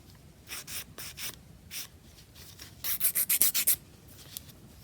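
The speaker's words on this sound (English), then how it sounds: "Okay, continue filing." A nail file rubs back and forth on a long Russian almond-shaped nail, giving scattered soft rasping strokes and then a quick rhythmic burst of about seven close, louder strokes, with no talking.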